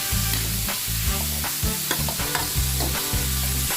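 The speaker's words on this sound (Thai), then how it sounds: "ก็จะคั่ว คั่วเนี้ยจนพอสุกนะครับ" Beef with chili and garlic stir-fried for basil beef, loud close sizzling with rhythmic scraping stir strokes repeating about twice a second, no talk.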